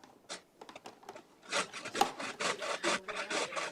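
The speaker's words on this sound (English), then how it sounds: "I've taken out my grater." Potatoes for latkes grated by hand on a hand grater in a kitchen, heard as uneven scratchy rasping strokes, sparse and soft at first and then denser and louder, close by with no talk.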